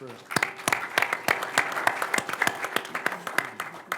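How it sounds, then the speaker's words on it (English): An audience at a Golf Ireland media event at the PGA Show breaks into applause, a burst of sharp, close hand claps that build into a brisk, uneven round lasting several seconds. "Round of applause for Stephen Walsh."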